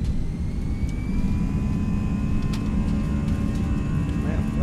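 An Airbus A319 in X-Plane 11 spools its jet engines up for takeoff, a loud, steady broadband roar with a rising whine of engine tones, and a voice speaking briefly over the noise.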